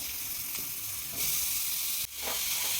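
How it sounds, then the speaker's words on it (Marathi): Grated carrot frying in hot ghee for carrot halwa, a loud continuous sizzle with brief stirring scrapes and a sharp burst partway through, close and without speech. "तर आपल्या याच्या कडेमध्ये आपण किसलेला गाजर टाकून द्यायचा आणि व्यवस्थित त्याला तुपामध्ये फिरवून घ्यायचा"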